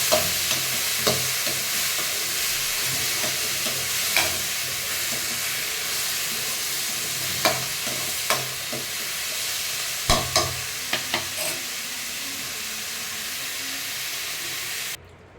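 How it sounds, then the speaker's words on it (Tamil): Tomato, onion, ginger, garlic and peanuts sautéing in a pan, a steady close sizzle with scattered sharp clicks and spoon-stirring knocks throughout, no talking. "எல்லாம் வதக்கி தக்காளி வெங்காயம் இஞ்சி பூண்டெல்லாம் வதக்கிட்டேன்"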